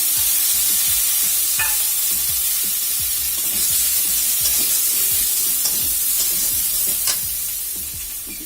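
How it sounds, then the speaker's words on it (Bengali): A potato with salt frying in a pan for a green papaya fish curry, a steady close sizzle and hiss with repeated stirring scrapes and clinks throughout, no voices. "লবণ দিয়ে আলুটা আমি লাল লাল করে ভাজি করে নিই।"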